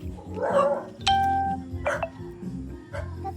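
A dog barks a few short, loud times close by on a road trip, the barks set among household noises and someone talking.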